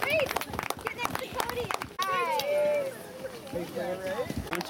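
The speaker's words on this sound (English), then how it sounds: "round of applause for the girls here" Crowd claps for girl runners after prize placings at the first annual Gransberg Cup race, a burst of sharp, scattered hand claps early on, then voices and chatter carry over the fading clapping.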